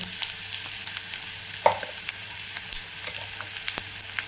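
Turmeric and asafoetida roast with peanuts in a pan, a soft steady sizzle broken by light clicks and scrapes of stirring, close and fairly quiet.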